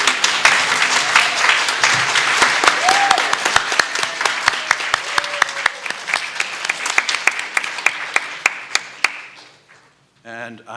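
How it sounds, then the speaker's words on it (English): A congregation at a church service gives a round of applause, a steady crowd of clapping with distinct individual claps standing out, dwindling to scattered claps, then fading out, with some voices mixed in. "that we can give you a round of applause"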